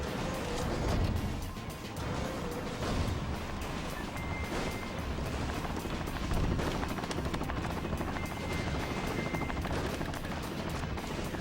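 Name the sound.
Black Hawk helicopters in video game Metal Wolf Chaos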